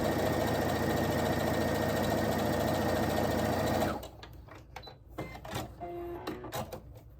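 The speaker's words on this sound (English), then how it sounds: "I'm just going to sew a 1/4 inch down that line" A sewing machine runs a quarter-inch seam on a plaid shirt quilt with a loud, steady mechanical whir for about four seconds, then stops, leaving quieter fabric handling and small clicks.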